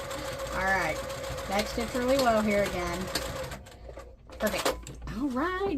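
A sewing machine back-stitching a fabric placemat runs steadily at close range, its mechanical hum largely buried beneath a person talking throughout.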